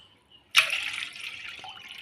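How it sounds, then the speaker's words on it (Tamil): Water being poured into a pan of raw milk for a karpooravalli masala tea: a sudden splashing pour that settles into a steady close stream, fairly loud, with no talk over it. "இப்போ வந்து அதே அளவு தண்ணி சேர்த்துக்கலாம்."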